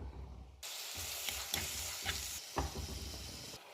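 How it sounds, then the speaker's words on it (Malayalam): Onions and tomatoes sizzle steadily in hot coconut oil for a crab curry, with repeated stirring scrapes breaking through the constant frying hiss. "ഉള്ളിയും തക്കാളിയെല്ലാം വഴറ്റിയിട്ട് വെക്കാം"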